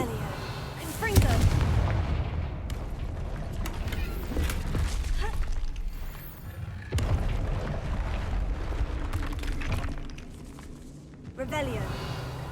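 Confringo blasting spells burst repeatedly in Hogwarts Legacy, loud booming explosions and crackling impacts rolling through a dense battle mix with a voice talking over parts of it.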